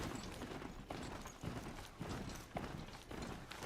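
Hooves of a ridden mount in Horizon Zero Dawn clop in a steady, quick rhythm, close and continuous over game ambience, with no talk.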